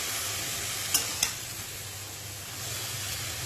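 Potatoes fry in a pan for aloo bhaji with a steady, close sizzle, broken early by two sharp scraping clinks of a spatula stirring, then continuing evenly with no voices.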